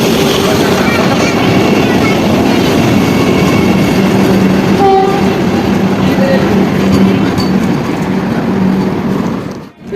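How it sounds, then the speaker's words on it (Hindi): The Howrah Vande Bharat Express rushes loudly through Lakhisarai Junction, a sustained rumbling roar of wheels and coaches close by, with a brief horn-like tone midway before the noise drops away at the end. "हावड़ा वंदे भारत एक्सप्रेस लखीसराय जंक्शन पर।"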